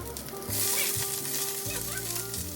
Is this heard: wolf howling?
no